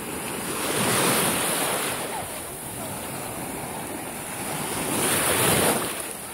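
Sea waves roll onto the shore on a windy morning, two broad surges swelling and fading over steady wind rush, fairly soft and with no voices.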